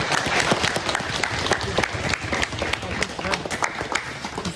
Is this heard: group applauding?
yes